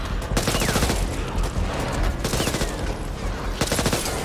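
Rapid automatic gunfire in the video game Back 4 Blood, dense sustained bursts of shots with brief gaps and a fresh volley near the end, loud and continuous throughout.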